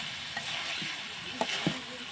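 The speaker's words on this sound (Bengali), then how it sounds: "এবার ধনিয়া পাতা দিয়া একটু নাড়া দিয়ে নামিয়ে নেবে" Curry stirred in a pan after coriander leaves go in, soft frying sizzle with a few light spoon scrapes near the end, close but quiet, no voices.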